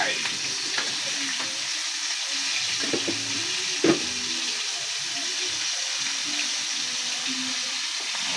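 Chicken feet frying in a pan of oil, a steady crackling sizzle with a brief sharp pop midway, close and alone.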